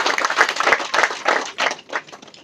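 An audience claps in brief applause, a dense, moderately loud patter of many hands rising and falling in short bursts for a couple of seconds.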